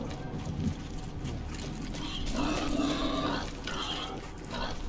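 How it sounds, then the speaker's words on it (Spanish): Pig or wild boar grunting in Far Cry 6, a few low snorting grunts heard close over steady outdoor game ambience. "Cerdo."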